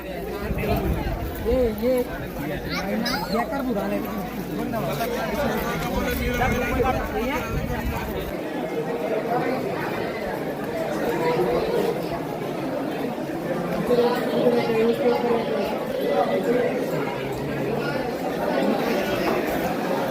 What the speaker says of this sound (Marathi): तुम्ही गर्दी पाहू शकता खूप गर्दी आहे